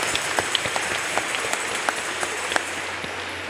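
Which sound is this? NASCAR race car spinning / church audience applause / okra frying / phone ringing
church audience applause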